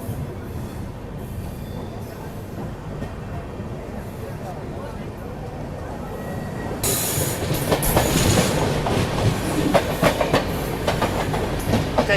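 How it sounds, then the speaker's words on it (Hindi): The Jaynagar–LTT Pawan Express pulls out of Khandwa Junction, a loud rolling rumble with rhythmic wheel clatter and squeal building as it gets going, while someone talks over it. "यहाँ डिपार्चर हो रहा है जयनगर LTT पवन एक्सप्रेस का।"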